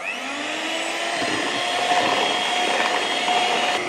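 An electric hand mixer whirs steadily as it beats sugared cake batter for a Japanese-style cake, a continuous close motor drone with shifting pitch and no talk.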